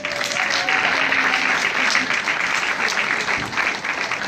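Audience applause at a talk about sickle cell disease, a steady dense wash of clapping from a crowd that holds level for several seconds, with no voices over it.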